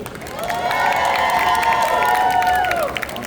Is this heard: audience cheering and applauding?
yes